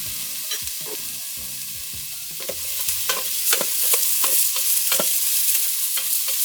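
Onion and garlic sauté in a pan for a cabbage soup, a steady close sizzle with scattered stirring scrapes and clicks that grow denser and a little louder in the second half, with no talking.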